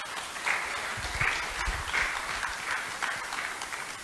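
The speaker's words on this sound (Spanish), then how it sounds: "¿Por qué no le damos un aplauso a Dios?" A church congregation applauds together, a steady wash of clapping lasting about four seconds with no speech over it.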